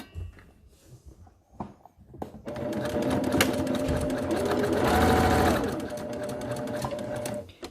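A sewing machine topstitches along the outer edge of a child's fitted fabric mask, its quiet whirring motor kicking in after a soft shuffle and running steadily for several seconds before easing off.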